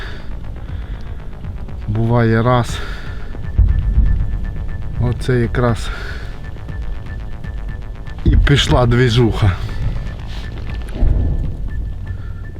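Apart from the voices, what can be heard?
helicopter flying nearby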